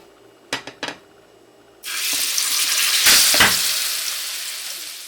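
Jamaican bammy drops into hot oil in a pan, setting off a loud, sustained sizzle that swells and crackles after a few soft knocks, continuing strongly to the end.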